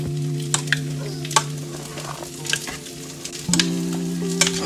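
Steak and beef for a burrito, with dry red seasoning mixed in, sizzle steadily in a pan, with a low hum underneath and several sharp clinks and scrapes of stirring, close and without speech.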